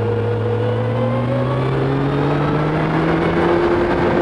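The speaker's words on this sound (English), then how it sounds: "Letting the bike just rev up slowly." A motorcycle engine revving gently at about quarter throttle, its steady, rising tone climbing slowly and smoothly, close and clear, with no talk over it.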